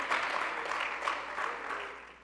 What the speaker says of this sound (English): That is something to clap your hands about.